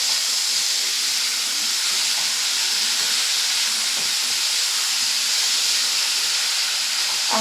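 Ginger, garlic and onion frying in a pan for a Bengali mushroom curry, giving a steady, close sizzling hiss that runs unbroken from start to finish with no talking.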